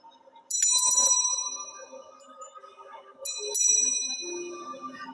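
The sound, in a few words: bell being rung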